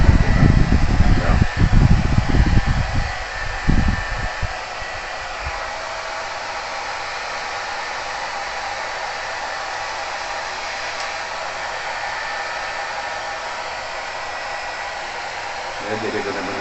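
Hair dryer blowing onto glass to dry alcohol before applying UV glue, a loud rough gusting rush at first as the air hits close, then settling into a steady, softer continuous whir.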